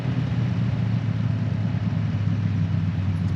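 A damaged tarmac rally car, low on front brakes after hitting plastic barriers, limps along with a continuous low engine rumble at moderate distance, steady and without voices.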